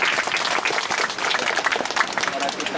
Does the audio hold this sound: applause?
yes